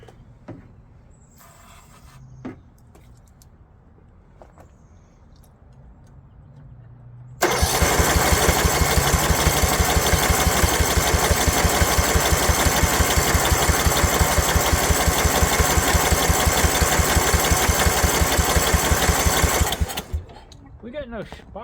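A Snapper rear engine riding mower with an 11 HP Briggs Intek engine cranks over on starter fluid with a loud, steady, chugging starter run lasting about twelve seconds, preceded and followed by faint clanks and handling noises.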